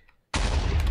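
A ballistic creeper explosion in Minecraft bursts in abruptly after a brief silence, a loud, dense blast that fills the short moment and stays sustained to the end.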